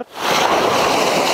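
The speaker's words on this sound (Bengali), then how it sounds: "এই সমুদ্র" Sea waves wash in as a dense, continuous roar of surf mixed with wind across the microphone, loud and close, with no voices over the rush.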